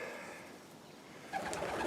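Countryside pigeons coo softly inside an old church, a low murmuring call that swells slightly near the end over a quiet, hollow interior.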